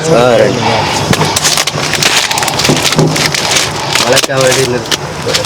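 Steady rain pours down outdoors at a food offering for sadhus in Tiruvannamalai, a loud continuous hiss with close patter and splashes throughout, and voices talking underneath.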